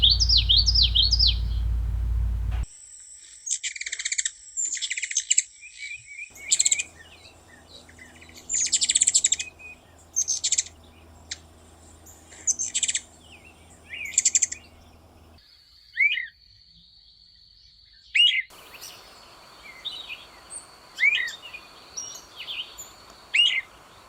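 Wild birds singing in a summer woodland at the Arcadia Management Area, bursts of bright chirps and trilled phrases spaced apart, some near and some farther off, over a quiet background with no talk.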